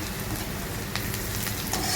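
Chopped onion frying in oil with bay leaf and panch phoron, a dense continuous sizzle close to the pan with a few faint stirring scrapes, loud and unbroken.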